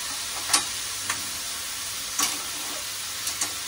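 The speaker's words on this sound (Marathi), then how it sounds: "कढीपत्ता टाकते, म्हणजे तो ती गळून जाईल त्याच्यामध्ये." Curry leaves sizzling in hot oil for a prawn masala, a steady close hiss with a few brief crackles and spoon taps scattered through.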